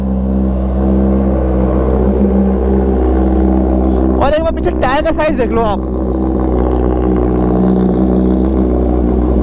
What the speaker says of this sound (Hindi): इसमें लगा हुआ है full system titanium exhaust SC project S1 exhaust